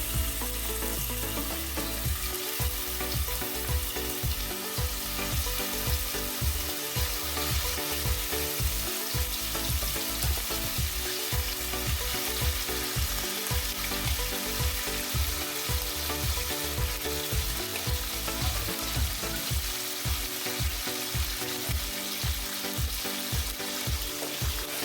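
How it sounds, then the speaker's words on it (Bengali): Salted, turmeric-coated mutton liver pieces fry in hot oil with a loud, continuous close-up sizzle and crackle, interrupted by rhythmic stirring scrapes that come in repeated bursts. "মেটেগুলোকে এক এক করে তেলে ছেড়ে দেবো, তারপরে ভাজতে থাকতে হবে"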